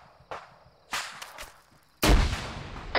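A frag grenade goes off during video game squad training: a few sharp, separate cracks and thumps come first, then one loud, close blast whose rumble fills the rest of the moment.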